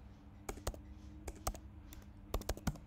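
Typing on a computer keyboard while writing a code comment: a quiet, irregular run of soft keystroke clicks in short bursts, close by and with no talking.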